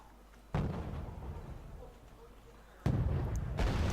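Artillery fire in the video game Wargame: Red Dragon, with two low booming blasts a couple of seconds apart, each followed by a rumbling tail, moderately loud.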